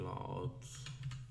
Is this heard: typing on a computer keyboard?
yes